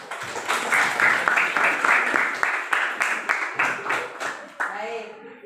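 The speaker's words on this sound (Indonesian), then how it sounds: "Iya, tepuk tangan deh." A classroom of pupils applauds during a lesson, with brisk, uneven clapping from many hands close by for several seconds. It tapers off at the end as voices come in.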